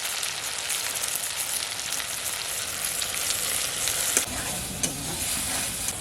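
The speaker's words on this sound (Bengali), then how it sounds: "আমি পেস্টটা দেবার মধ্যে লঙ্কা, আদা আর রসুন, এটা পেস্টটা এখন দিয়ে দিলাম।" A paste of chili, ginger and garlic fries in a pan for a snakehead fish curry, giving a constant close sizzle with occasional stirring scrapes and no talk.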